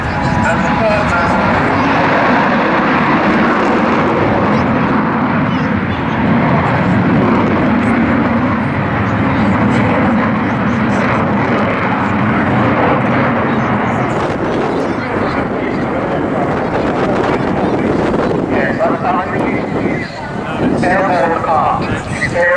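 The Avro Vulcan XH558 bomber roars overhead at a seaside airshow at Southend, a loud, sustained jet rumble that swells and lingers, with a commentator talking over it throughout.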